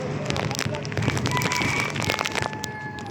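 Dense, steady rainfall hissing and pattering on surfaces, loud and continuous, with faint tonal hums in the background.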